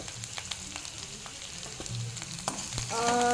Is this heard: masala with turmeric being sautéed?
yes